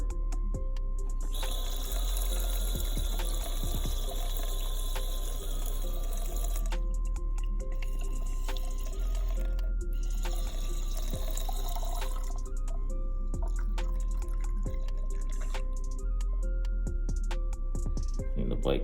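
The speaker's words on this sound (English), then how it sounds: "It's coming with our extractor, and we're going to pull that water right out." Steady running water as an extractor pump sucks coolant water from a Honda CBR 250R motorcycle radiator, with a faint pump-like hum and gurgling suction, continuous and fairly close, with brief quieter pauses.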